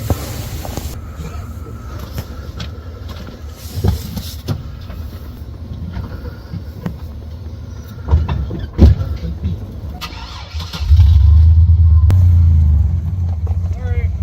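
A car drives up near a forest campsite, its engine rumbling under muffled voices and rustling, then swelling into a loud, close, steady drone toward the end.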